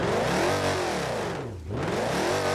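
A Dodge car engine in a driving game revs loudly and steadily. Its pitch sweeps down into a brief dip, then climbs back up into a sustained, high, whining rev.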